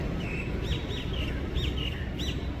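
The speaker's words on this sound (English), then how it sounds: "Oh, can you hear the birds?" Small birds chirp outdoors on a hot Tel Aviv street, several short rising and falling tweets repeating at moderate distance over a steady background of city ambience, with no one talking.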